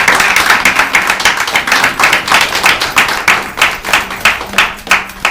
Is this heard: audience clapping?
yes